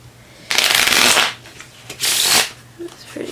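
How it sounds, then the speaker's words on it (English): A deck of playing cards riffle-shuffled twice at close range while teaching the card game Double Knockout, two loud crisp fluttering bursts with brief softer card handling afterward. "let's start out with the shuffle"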